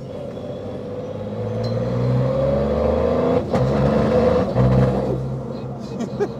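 A Toyota GR Yaris with a turbo three-cylinder engine accelerates through gears without the clutch, giving rising engine tones broken by shift dips, heard from the cabin at moderate loudness with some voice in the background.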